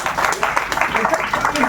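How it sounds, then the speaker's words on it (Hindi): Audience applause at a sponsor day at an eye hospital in Sitapur, a run of scattered hand claps from a gathered crowd, moderately close and uneven, overlapping with speech. "तो जब ताली बजेंगी तब तो पता चलेगा।"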